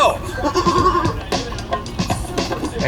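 A goat bleats loudly and close, a wavering drawn-out call that comes in several rough bursts, mixed with other noisy sounds.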